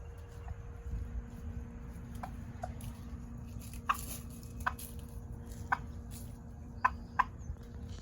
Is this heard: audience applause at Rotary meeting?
no